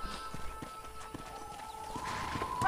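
Horse hooves clip-clop in Red Dead Redemption as a mount trots up, with a whinny rising toward the end, the sound building louder over the final second.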